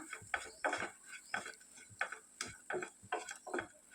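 A spoon stirs garlic and coconut spice powder in a hot pan on a switched-off stove, giving a run of about a dozen close, crisp metallic scrapes and taps in a steady rhythm.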